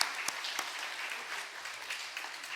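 A church congregation applauds together during a Sunday afternoon worship service, a steady, moderately distant wash of clapping with a few sharper claps standing out, lasting throughout.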